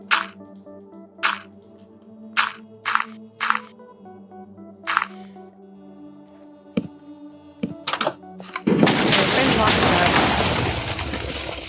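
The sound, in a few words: TNT minecart explosion in video game Minecraft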